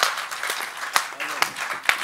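Applause from an audience at a Hindi poetry gathering in Thane, Mumbai: a brief, moderately dense patter of clapping with a few sharper claps standing out, a voice faintly heard beneath.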